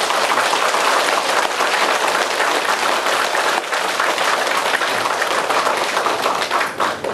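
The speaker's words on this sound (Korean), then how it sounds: "우리 다 같이" Audience applause at a Buddhist temple talk by a monk, for the elderly laywomen who prepared the offering meal: dense, steady, loud clapping from a large crowd filling the whole stretch, tapering slightly at the end.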